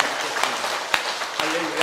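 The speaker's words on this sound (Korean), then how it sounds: "우리 큰 박수로 하나님께 감사드렸으면" Brief congregation applause in a church service, a soft spread of clapping with a few sharper claps standing out and a voice murmuring underneath.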